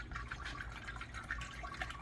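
Distilled water poured into the cooling system of a 1959 Cadillac, a continuous faint gurgling trickle with light splashing, steady throughout and with no talk.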